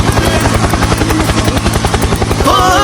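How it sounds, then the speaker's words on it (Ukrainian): A helicopter drones loudly and steadily, its rotor thumping in a fast regular pulse throughout, close and continuous. "Коптер, гелікоптер!"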